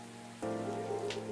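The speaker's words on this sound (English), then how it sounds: "why would it matter if it's raining harder outside" Steady rain falls outside in the Coffee Talk video game, a soft patter under sustained tonal music that steps up in level after a brief moment and then holds steady.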